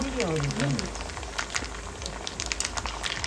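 Sabbakki sandige (sago fryums) fry in hot oil, giving a steady close bubbling sizzle with fine crackles and a brief voice at the start.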